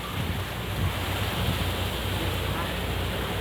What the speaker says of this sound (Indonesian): inilah keadaan taifung di Taiwan. Oh, anginnya sungguh besar sekali.